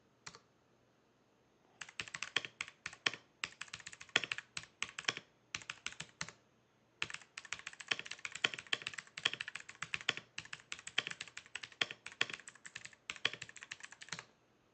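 Rapid bursts of typing on a locally made Thai mechanical keyboard with blue switches, crisp clacky keystrokes in quick irregular runs with brief pauses, close and clear with no talking.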